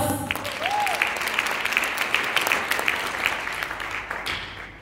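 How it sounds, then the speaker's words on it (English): A church congregation applauds together, a steady, full wash of clapping from many hands that holds for several seconds, with scattered sharper claps standing out near the front. "I want us to give him a round of applause."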